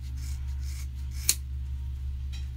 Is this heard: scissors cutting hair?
yes